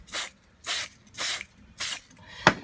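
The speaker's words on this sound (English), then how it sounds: "Now on the other side, that bit, you have to spray it." Aerosol activator for a two-part mitre adhesive sprayed in four short hissing bursts with pauses between, then a brief click, close and fairly quiet.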